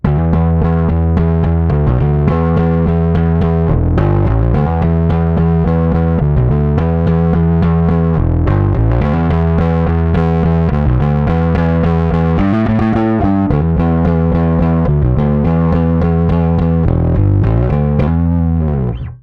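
A bass guitar plays a driving riff through a Jam Pedals Lucydreamer overdrive, based on the Tube Screamer, gritty, thick and saturated, loud and continuous with no voices.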